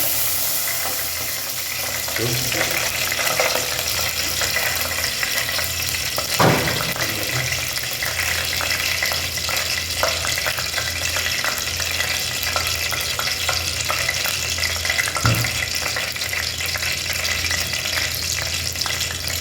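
Mustard seeds, cumin and dry chilli fry in oil for a village pepper rasam, giving a steady close sizzle with a few sharp clatters and scrapes.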